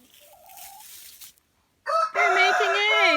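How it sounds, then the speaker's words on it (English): A rooster in a farm coop with chickens and ducks lets out a loud, close, raspy crow after a brief soft cluck and a short pause. "that would have been Mr. Rooster. telling me that maybe I shouldn't be in here"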